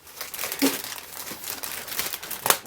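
Plastic parts bag from a 1:25 scale 1969 Plymouth GTX model car kit is crinkled and ripped apart by hand, giving close, uneven bursts of crackling and tearing with a sharper rip near the end.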